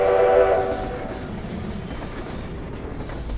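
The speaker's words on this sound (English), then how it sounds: "white-tailed rabbits hid from our train as it thundered through the quiet wilderness" Train thundering through a cold, dark forest, a loud rumbling passage with a horn-like tone early on that fades into steady rolling noise.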